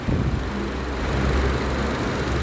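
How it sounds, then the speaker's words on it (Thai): A Honda Accord engine idles steadily at close range, a smooth low rumble with no revving. "นี่ เครื่องยนต์นิ่งๆ เลยครับ"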